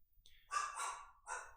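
A dog barks a few times in quick succession nearby, a short run of sharp yips or barks in an otherwise quiet room.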